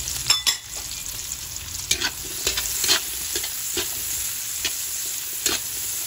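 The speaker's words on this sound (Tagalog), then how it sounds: "Ilagay na natin yung ating sibuyas." Tofu and onions sautéing in a large pan for pancit, a steady close sizzle broken by sharp clinks and scrapes of a spatula stirring, with no talking.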